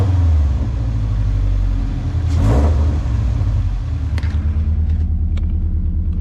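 Car engine with a stock intake revving loudly up close, a deep continuous rumble with a brief rising rev swell in the middle before settling back to idle, no talk.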